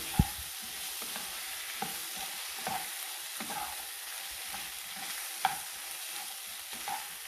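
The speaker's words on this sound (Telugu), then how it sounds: "చామదుంపల్ని వేసేసుకోండి." Taro pieces fry quietly in oil, a soft steady sizzle broken by occasional clicks and scrapes of a spatulas stirring.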